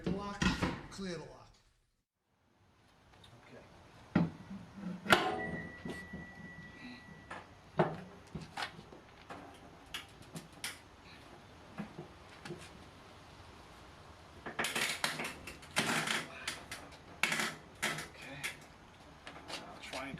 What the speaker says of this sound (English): Break the lock, clear the lock.